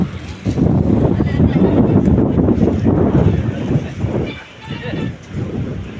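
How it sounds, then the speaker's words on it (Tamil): Strong wind roars steadily against the microphone on a moving train from Coimbatore, a loud, constant rush with gusty swells, easing briefly near the end before picking back up. "காற்று வேறு லெவலாக அடிக்குதுங்க"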